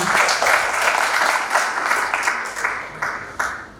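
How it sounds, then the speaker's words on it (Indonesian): A graduation audience claps in a sustained burst that thins slightly toward the end, with a few sharper individual claps standing out near the close. "Berikan tepuk tangan."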